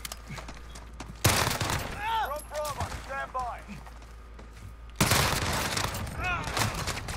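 Sharp bursts of a Renetti burst pistol firing in Modern Warfare, two loud, near clusters of rapid shots separated by a stretch of quieter game sounds, with a player talking throughout.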